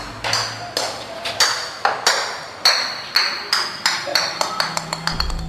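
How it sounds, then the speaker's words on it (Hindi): A ball bounces down a staircase as a radio drama sound effect: a series of sharp, ringing taps, each decaying quickly, coming faster and lighter as it goes. "ऊपर से एक बॉल गिरते हुए नीचे आया।"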